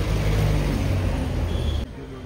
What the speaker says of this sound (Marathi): सगळा असा ट्रॅफिक मध्ये जाणार आपण.